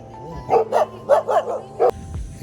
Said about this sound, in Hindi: बाहर चलते हैं तो यही हो जाता है. डॉग्स का भौंकना चालू हो जाता है.